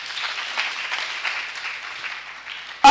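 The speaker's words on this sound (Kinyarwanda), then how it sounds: "Mukomere Imana amashyi" A church congregation applauds at an evangelist's service, a steady wash of clapping that holds for nearly three seconds at moderate volume before a sharp, loud burst at the very end.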